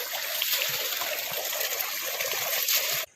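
Water pours steadily into a rice paddy field, a continuous close trickling and gushing stream that runs without pause and cuts off abruptly at the end.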